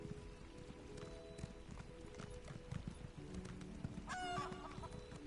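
A chicken clucks briefly in the background over a busy game soundscape with steady ambient hum and faint hoofbeats.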